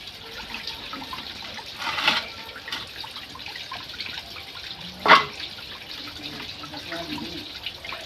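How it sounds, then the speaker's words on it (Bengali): Running water pours over vegetables being washed in a village kitchen, a soft continuous trickle with a couple of louder splashes midway, fairly close and without talk. "সবজিগুলো ধুয়ে নিচ্ছি।"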